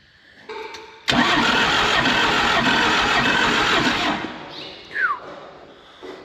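A damaged, inoperative military John Deere 450G dozer engine with grinding metal inside cranks into a loud, harsh, steady roar that starts abruptly, runs for about three seconds, then cuts out, leaving faint rattles and a brief high squeak.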